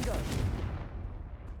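A fiery Confringo spell blast in the Hogwarts Legacy video game, heard as a loud, close burst with a heavy low rumble that fades over about a second.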